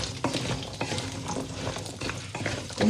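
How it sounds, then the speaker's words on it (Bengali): Sun-dried pumpkin lentil dumplings fry in oil left over from frying fish, giving a continuous close sizzle broken by scraping stirs and a few utensil knocks. "এখানে আমি হচ্ছে কুমড়ো বড়ি একটু ওই তেলেই হালকা ভেজে নিব"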